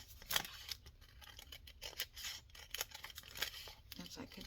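Scissors cut open a package of new buttons in a sequence of close, sharp snips and rustling, with a brief tearing sound, heard quietly and without speech over them.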